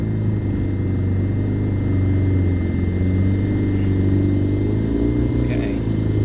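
A Mazda RX-7 FC rotary engine that had sat for 15 years runs steadily as the car drives off, a loud, close, continuous droning hum with shifting harmonics. Some speech may be mixed in.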